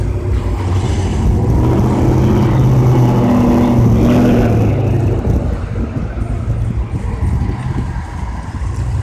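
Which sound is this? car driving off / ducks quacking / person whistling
car driving off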